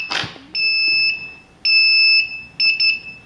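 A wireless Defender ST6 alarm system gives its arming beeps: a short burst of noise, then three sharp, loud high-pitched electronic tones with steady pitch, the last split into quick double pulses, close and with no talk.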